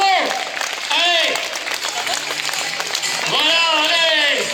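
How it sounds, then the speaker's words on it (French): Steady crowd applause at a half-marathon finish line fills the whole stretch, mixed with cheering voices and an announcer talking loudly over it. "Alors on applaudit très fort là aussi"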